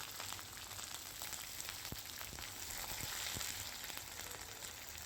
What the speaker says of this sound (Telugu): ఈ పోపులు కొంచెం వేగుతున్నప్పుడు సిమ్లో పెట్టేసి వేయించుకోవాలి